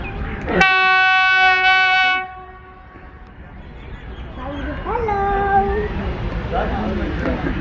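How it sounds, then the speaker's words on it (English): A loud, steady train horn blasts for about two seconds, followed by the rumble of a safari passenger train passing through Golra railway station, Islamabad, as people talk nearby. "This is a safari train, ladies and gentlemen."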